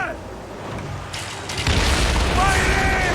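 Cannon fire from warships in a naval battle in Assassin's Creed Origins, heavy rumbling booms building and swelling near the end over a constant sea-battle din, with shouting voices in the background.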